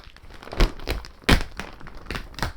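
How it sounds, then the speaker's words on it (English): Plastic bag wrapping around a rolled, bagged RV mattress being cut and pulled open, giving several separate crinkling, rustling bursts with one sharper tearing crackle in the middle, close up and fairly quiet, with no talking. "So we're just going to cut this here."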